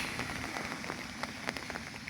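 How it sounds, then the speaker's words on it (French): Continuous light to moderate rain falling during a stormy Mediterranean-type rainy episode, a steady close patter of drops on surfaces with scattered louder individual drips throughout. "il pleut de manière continue depuis 14 h, de manière faible à modérée"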